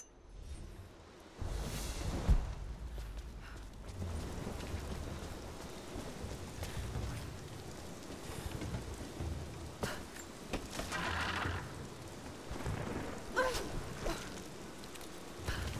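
Rain and thunder in the Rise of the Tomb Raider video game. Steady rainfall hisses throughout, and a deep thunder rumble rolls in early, followed by further crackling swells of storm noise with no speech.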